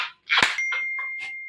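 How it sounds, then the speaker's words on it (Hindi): A single bright phone notification ding rings out once and lingers as a steady tone, fairly loud and clear, in a quiet indoor scene with no talking. "नोटिफिकेशन है।"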